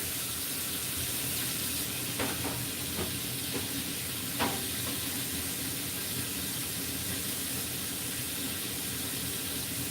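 Kitchen tap water runs steadily as two pieces of raw meat are rinsed in the sink, a continuous close rushing hiss with a few brief knocks and splashes, and a stovetop sizzle faintly underneath.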